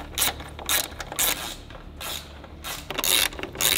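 Screws are tightened while an OEM LED headlight retrofit is installed, giving rapid ratcheting clicks in several short bursts with brief pauses, close up and clear.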